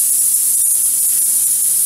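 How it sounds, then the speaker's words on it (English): A steady, hissing spray of PURETi Clear coating onto windows runs continuously at close range, loud and even, with faint low clicks underneath. "we're going to spray those windows"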